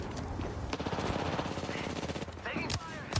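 Rapid automatic gunfire from an Apex Legends firefight crackles in dense bursts throughout, loud and close, with sharp single shots and a whooshing effect near the end, and a faint voice mixed in.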